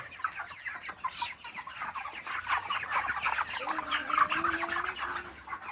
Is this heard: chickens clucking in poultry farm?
yes